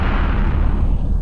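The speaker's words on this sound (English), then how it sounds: "and then there was a huge explosion" A huge explosion on a bridge: a loud, close, rumbling blast with heavy low-end roar filling the whole short moment, no voices.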